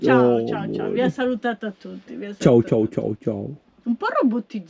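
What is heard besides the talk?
None of the usual background noises is heard.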